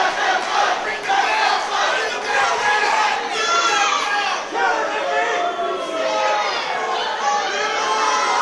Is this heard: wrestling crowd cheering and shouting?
yes